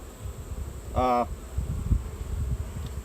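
Honey bees hum in a low, steady drone close by at an open hive during an inspection, with one louder buzzing pass as a bee flies near.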